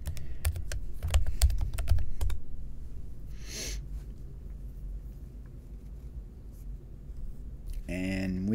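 Rapid typing on a Mac computer keyboard, dense clicky keystrokes in bursts for the first two seconds, then quieter background with a brief rustle and a short tonal beep near the end.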